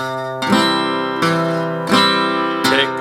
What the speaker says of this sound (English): I'm starting by picking the string and then strumming the chord.